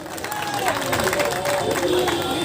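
A crowd at a symbolic sit-in protest over arts-faculty teacher recruitment claps steadily and loudly for the whole stretch, with voices and cheering mixed into the applause.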